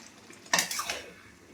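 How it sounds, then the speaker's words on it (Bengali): A spoon scrapes and knocks against a pan while mixed vegetable curry is stirred with ghee, giving one sharp metallic clatter followed by a few softer scrapes, close and otherwise quiet. "এবার আমি ঘিটা দিয়ে ভালো করে নেড়ে নেব।"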